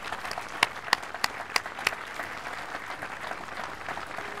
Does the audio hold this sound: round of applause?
yes